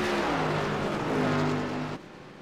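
Race cars lapping Darlington in the iRacing game, a loud steady engine roar with layered tones from more than one car, cutting off to a lower hum near the end.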